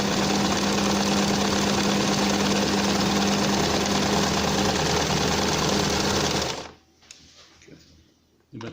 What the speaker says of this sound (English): This is free embroidering with the sewing machine.